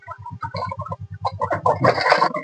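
A chicken clucks in a rapid run of low, rhythmic clucks, then breaks into louder, busier squawking close by.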